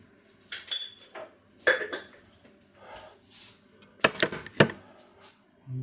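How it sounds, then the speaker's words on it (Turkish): Sugar is stirred into a yeast mixture in a bowl, giving intermittent clinks and scrapes of a spoon against the bowl in short bursts separated by quiet pauses. "güzelce karıştırayım Mayamızı aktif hale getireyim"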